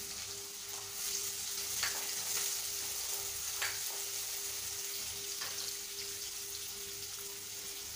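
Finely chopped onion drops into hot oil with fried spices for a mutton curry, a steady close sizzle with occasional stirring scrapes and spatters, alone without talking.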